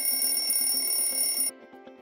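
A morning alarm rings as a rapid, tonal electronic warble, loud and close, then cuts off abruptly halfway through.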